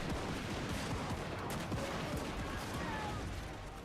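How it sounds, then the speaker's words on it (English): Tier 4 defensive towers in a Warhammer battle game firing rapidly, a dense, continuous machine-gun-like barrage of shots at moderate level with a voice speaking over it. "tier 4 towers fire quickly. It's like a machine gun hell cannon."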